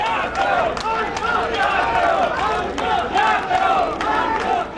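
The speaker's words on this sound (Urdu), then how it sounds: "کارکنوں نے سڑک پر علیم خان کے حق میں نعرے بازی کی۔" PTI workers on a barricaded street outside a court chant slogans for Aleem Khan, a large crowd shouting in loud, rhythmic, overlapping call-and-response waves that continue throughout.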